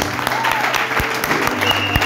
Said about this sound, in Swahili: Hebu tumpigie makofi anapokaribia.